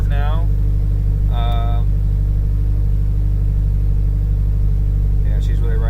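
A tuned Subaru STi with an Emtron KV8 ECU, eight fuel injectors and an EFR8474 turbo idles at a steady low rumble, loud and close, while someone talks over it.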